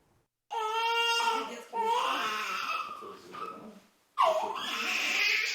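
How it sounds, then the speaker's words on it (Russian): A baby cries in a maternity hospital: loud, close wailing in two long bursts with a short pause between them, heard alone. "Детский плач в этих стенах как символ новой жизни старого роддома."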